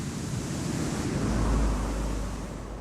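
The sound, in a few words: strong wind and rough sea surf on the Chilean coast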